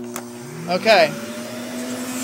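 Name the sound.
Vh2o canister vacuum cleaner with 4-speed motor switched on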